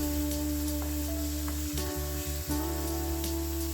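Ginger and garlic sautéing in a pan for rasam while being stirred, a steady low sizzle running throughout with a few soft scrapes of the spoon, under a constant background hum.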